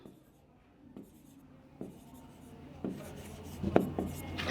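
Marker or chalk writing on a board during a chemistry lesson, with soft scratchy strokes that start faint and grow louder and busier, with a sharp tap near the end.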